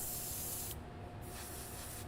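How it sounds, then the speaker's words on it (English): An aerosol spray can hisses onto a plastic model tank turret in a garage, a loud close spray broken by a short pause and then resumed. "so we're gonna spray this on here."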